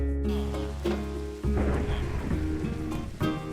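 Rain and thunder in Minecraft: a steady hiss of rainfall with low rolling rumbles of thunder swelling through the short stretch, no voices.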